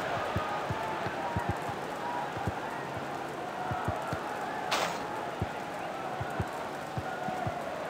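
Stadium crowd noise in the Dream League Soccer video game after a goal, a dense continuous roar with scattered thumps, one brief burst of cheer, steady and fairly loud.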